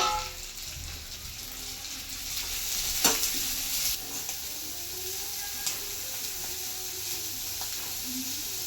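Chopped onion and mint frying in a pan for egg fried rice, a steady close sizzle with occasional stirring clatter and a sharp scrape of the spatula partway through.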